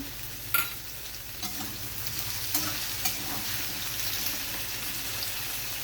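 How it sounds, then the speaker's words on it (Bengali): Four green chillies fry in hot oil and are stirred, producing a soft continuous sizzle with a few light taps and scrapes of the spoon against the pan, fairly quiet and without speech. "তার সঙ্গে আমি দিয়ে দিচ্ছি চারটে কাঁচা লঙ্কা"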